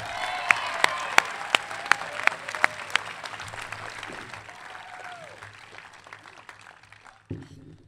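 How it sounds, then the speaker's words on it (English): Audience applause at a 2016 high school graduation ceremony, a steady wash of many hands clapping in a large hall with a few louder sharp claps near the start, fading gradually to quiet by the end. "Let's give him one more round of applause."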